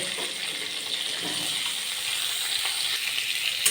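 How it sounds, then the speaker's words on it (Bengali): Two large chopped onions drop into hot oil with browned cumin and fry in a pan, giving a steady close sizzle with faint crackles throughout and no talking. "পেঁয়াজটাকে হালকা ভেজে নেব।"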